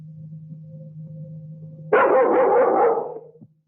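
A dog barks in a loud, close burst of rapid overlapping barks lasting over a second, following a faint steady hum.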